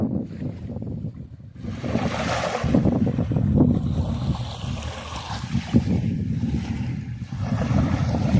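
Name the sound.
sea waves at the shore, tide coming in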